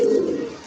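Low, soft cooing from a female Teddy pigeon kept as a breeding mate, one steady murmuring call that fades out over under a second, heard close with no talk.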